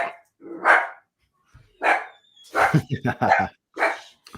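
Several dogs bark in short, sharp bursts, some close and loud, in an indoor home setting during a podcast recording, with a person speaking in between the barks.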